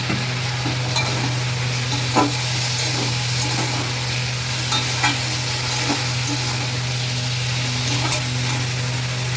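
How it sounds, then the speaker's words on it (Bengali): Pointed gourd curry with a splash of water sautéed in a pan: a continuous sizzle beneath repeated soft scraping strokes of a spoon, close and fairly loud, with no speech. "এবার একটু কষে নিচ্ছি। সামান্য একটু জল দিচ্ছি কষার জন্য।"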